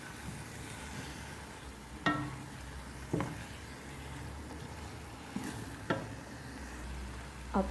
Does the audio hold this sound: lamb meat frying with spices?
yes